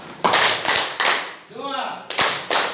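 At a school event, a group claps in short counted bursts, some single and some in quick sets, with a leader's voice calling out between the rounds.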